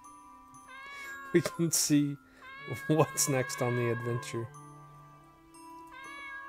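A cat meows several times in the video game Hoven the Sage's Spinel, with clear, drawn-out mews over soft game music while someone talks.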